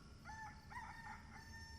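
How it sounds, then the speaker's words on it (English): A rooster crows in the Love and Deepspace video game, a faint, distant cock-a-doodle-doo in a few rising and falling bursts over a low background hum. "The rooster already crowed."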